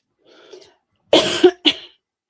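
A faint throat sound, then a couple of harsh, close coughs in quick succession.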